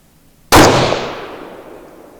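A single sharp, loud rifle shot from a precision rifle fitted with a Schmidt & Bender PMII scope cracks out at a range, followed by a long decaying echo.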